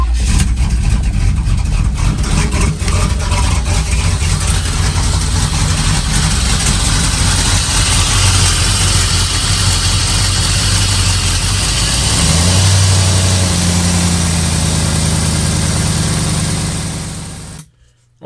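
A third-generation Camaro engine runs steadily at idle with a heavy, continuous low rumble that holds for most of the stretch, briefly shifting pitch before cutting off abruptly near the end.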